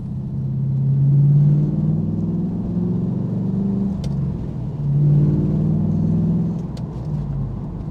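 Chevrolet Camaro engine rumbling steadily while driving along small back roads, a loud low drone that swells and eases twice with the throttle, no talking.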